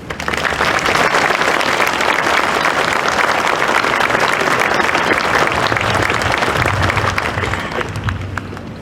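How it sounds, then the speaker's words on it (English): A large graduation ceremony audience gives a long round of applause, loud and dense continuous clapping that holds at full strength for about eight seconds before beginning to taper. "I'd like to offer them a round of applause if you will."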